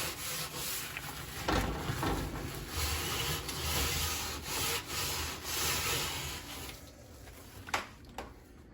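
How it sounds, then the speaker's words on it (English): Stainless steel scrubber worked with Dawn dish soap across the bottom of an oven, giving a steady, continuous close-up rasping scrub in back-and-forth strokes, alone with no talk. "I scrubbed the bottom right now, and now we're gonna start on the sides"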